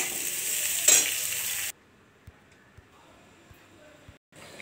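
Potatoes frying with onion, chilli, turmeric and salt in a pan, stirred: a bright sizzle runs for under two seconds, then drops to near silence with a few faint taps of the spoon.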